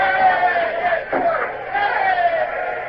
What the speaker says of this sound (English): What are those idiots cheering about?